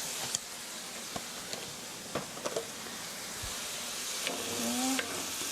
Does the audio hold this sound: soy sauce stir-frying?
yes